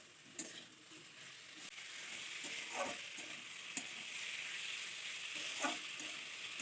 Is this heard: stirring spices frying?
yes